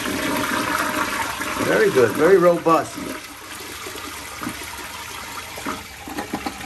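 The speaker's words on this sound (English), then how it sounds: "that bowl was very very excited to flush whatever needed to be flushed" A Crane toilet in a New York City hotel room flushes with a strong, high-volume rush of water that swells, swirls briefly, then tails off into a quiet trickle, with someone speaking briefly after it.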